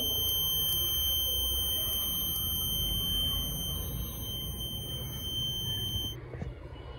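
A laser and LDR sensor pole vault game's buzzer sounds a steady, piercing electronic tone that runs for about six seconds over background noise, then cuts off.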